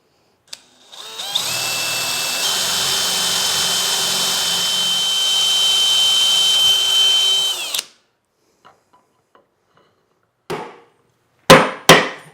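A power drill with a brad point bit bores holes in wooden dowels, making a loud, steady whine for about seven seconds. It cuts off sharply, followed by a few faint clicks and short bursts of handling noise.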